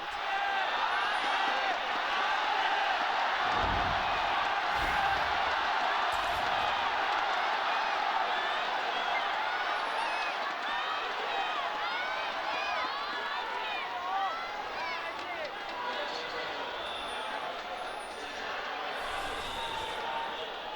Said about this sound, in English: hear just how loud this crowd is here for us in Nanjing